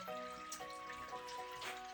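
Heated water trickling and splashing through a bed of grain during beer sparging, a steady close liquid patter with small drips and gurgles throughout, no talking.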